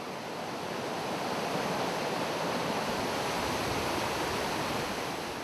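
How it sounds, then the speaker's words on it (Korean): The Niagara River above the falls gives a broad, steady rush of flowing water, continuous and fairly loud with no breaks. "폭포가 믿기지 않을 만큼 유유히 흐르는 나이아가라 강을 만날 수 있습니다"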